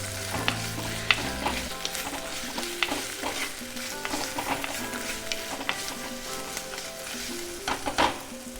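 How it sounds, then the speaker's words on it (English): Ginger and garlic sizzle in hot oil in a home kitchen while being stirred, with steady frying crackle and repeated clinks and scrapes of a spoon against the pan, close and alone without talk. "I'm going to now add the ginger and the garlic. And I'm going to give that a good stir."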